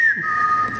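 A single short whistled note rings out, clear and steady, after a quick upward slide at the start, close and fairly loud over a faint background.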